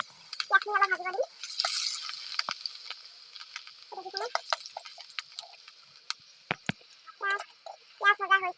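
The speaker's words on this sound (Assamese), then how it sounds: "এতিয়া মই কেৰাহীখনত পিঁয়াজখিনি অলপ ভাজিব দিম।" Chopped onions fry in a kerahi (wok) after a batch of fish, giving a steady close hiss with scattered pops and clicks, while short bursts of voice come and go over it.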